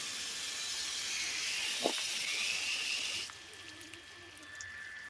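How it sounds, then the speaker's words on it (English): A garden hose sprays water onto trees at a garden center, a steady broad hiss that runs for about three seconds then drops abruptly to quieter background. "Gotta water the trees."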